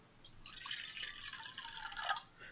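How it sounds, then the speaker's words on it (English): Water poured into a silver scrying bowl, a steady bright splashing trickle that runs without a break for about two seconds, close and alone. "So we're going to fill this bowl with water."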